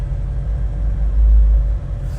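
Low, steady rumble of a 1934 street rod's engine idling at about 500-600 RPM with the air conditioning on, heard close and alone with a slight swell in the middle.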